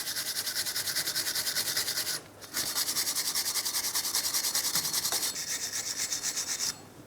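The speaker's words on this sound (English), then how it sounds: "I'm going to use my wire brush." A wire brush scrubs a wheel hub close up in fast, rhythmic strokes, a steady rasping scratch that stops briefly twice before starting again.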